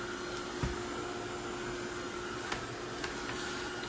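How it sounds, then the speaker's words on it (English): A heat tool blows steadily to dry a craft paint layer on an altered mirror frame, giving a constant close airy whir with a few faint clicks. "now I need some heating tool for making it dry, so I can add another layer"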